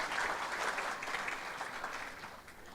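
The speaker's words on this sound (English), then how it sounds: "One more round of applause for our chief guest." Audience at a digital transformation summit in Diani applauds the chief guest, a dense burst of clapping from many hands that fades gradually over a few seconds.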